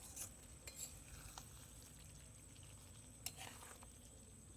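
Chicken frying in a pan over a wood-fired clay stove outdoors in the rain, with a faint steady sizzle and occasional soft scrapes and clinks from stirring, quiet and close.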